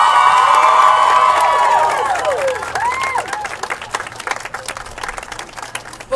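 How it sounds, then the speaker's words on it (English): Parents and students at a school event cheer loudly, with high children's shrieks and whoops over applause that fades into scattered clapping and crowd noise. "Parents and students, let's give the governor one more really big round of applause."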